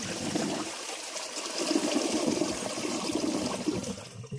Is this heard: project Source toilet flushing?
yes